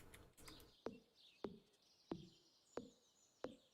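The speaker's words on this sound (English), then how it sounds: "But there's some lovely bird song." Birdsong in the Stardew Valley farming game: soft chirps and calls over quiet ambience, punctuated by five evenly spaced sharp knock-like taps roughly every 0.6 seconds.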